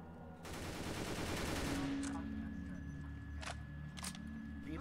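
Gunfire from the Roblox game Stalker: a dense burst of shots fills the first second and a half, then fades into a quieter backdrop with a few isolated sharp cracks further off.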